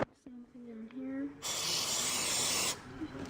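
A short burst of spray lubricant hisses onto garage door rollers, loud and close for about a second. A voice talks just before it.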